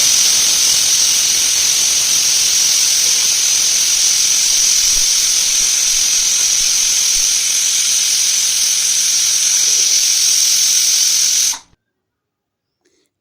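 A pressure cooker cooking fenugreek-leaf dal lets out one long, loud, steady steam whistle, a sharp hissing shriek held for about eleven seconds before cutting off abruptly into silence.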